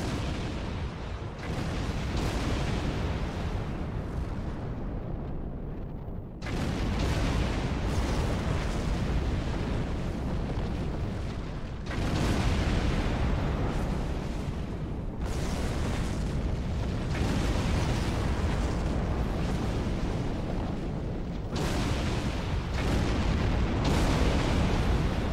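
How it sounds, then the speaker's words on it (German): A nearly continuous barrage of loud, booming explosions in the video game Star Trek Online, rumbling and overlapping with brief breaks, dense and heavy throughout. "Es hört gar nicht auf zu explodieren."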